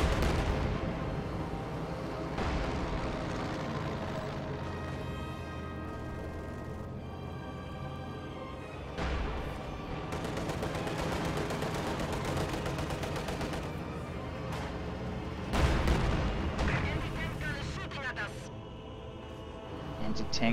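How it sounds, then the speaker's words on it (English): An anti-tank gun fires amid a busy strategy-game battle, with heavy booming shots and rattling gunfire layered into a constant dense roar, punctuated by louder blasts near the middle and end. "Anti-tank gun fires."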